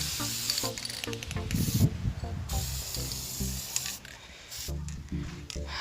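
Hissing bursts of an aerosol spray paint can onto a doll, several short sprays in quick succession with rustling handling noise between them, fairly close.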